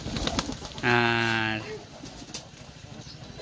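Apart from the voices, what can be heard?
domestic pigeons cooing on a pigeon farm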